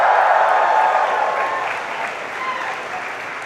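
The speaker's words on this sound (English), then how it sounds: "A proper cheer that they really deserve." A graduation ceremony audience applauds and cheers loudly in a large hall, a dense sustained wash of clapping and voices that eases off slightly toward the end.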